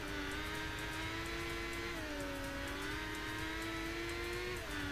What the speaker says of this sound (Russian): На разгон, конечно, мотоцикл слабый